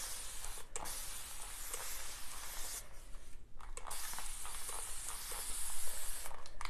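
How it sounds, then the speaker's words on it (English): Patina paint sprayed onto metal, a steady close hiss running almost continuously with a brief break midway, then resuming and swelling slightly toward the end. "Spraying it, so when it runs down, it's gonna go sit in all of these crevices."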